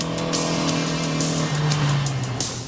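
Rally cars race on a Nova Scotia rally stage, engines revving hard and steady with a strained high whine and a shift in pitch midway, close and loud throughout.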